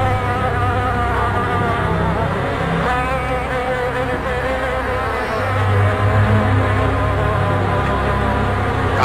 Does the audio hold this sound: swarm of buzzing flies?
yes